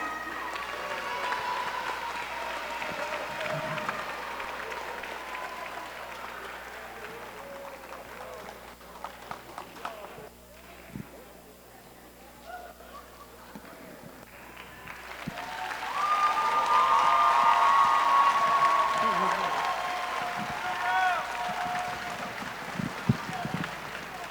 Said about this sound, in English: y'all ain't clap loud enough